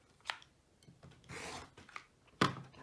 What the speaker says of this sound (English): the very first thing we need to do is to cut off a 1-inch strip off the bottom